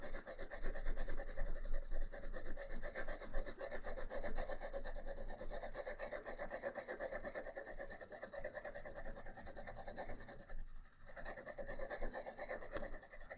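A pencil lightly shades a mid-gray background on paper for a still life drawing, a soft, steady scratching and rubbing that continues close and quiet throughout.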